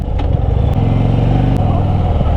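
Harley-Davidson Fat Bob 1800cc motorcycle idling loud and close, with a thumping engine note, a few sharp exhaust pops and a rising rev partway through.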